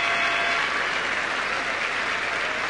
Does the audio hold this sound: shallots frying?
no